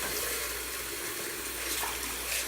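Warm water runs steadily into a shallow bath being filled for a pet ferret, an even, continuous splashing flow that fills the whole short stretch with no talk over it.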